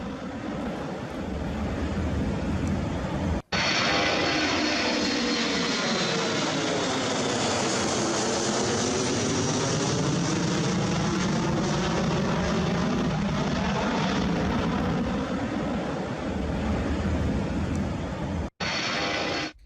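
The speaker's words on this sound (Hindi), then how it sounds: "जर्मनी के रामस्टीन एयरबेस पर यूएस का ये जासूसी विमान उतरा है" A US spy plane lands at Ramstein air base in Germany, its engines giving a loud, steady roar that rises and falls in pitch as the aircraft passes close by, with brief cuts near the start and end.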